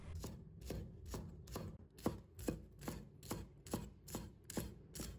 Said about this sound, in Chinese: 先把葱白切成小粒